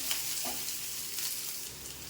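Two large chopped onions frying in a pan for radish chutney, giving a steady, moderately faint sizzle with soft scattered crackles, no speech.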